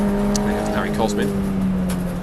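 A Ford Fiesta ST240 race car circulating at Silverstone during a BRSCC ClubSport Trophy race, a steady high engine tone with a commentator's voice over it.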